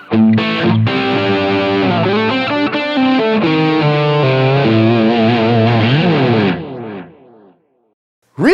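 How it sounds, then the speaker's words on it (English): Electric guitar through a Deranged Master overdrive pedal model on a Line 6 Helix at stock settings plays saturated, distorted chords and riffs for several seconds before ringing out and fading, loud and upfront. "it is with the Deranged Master on with the stock settings"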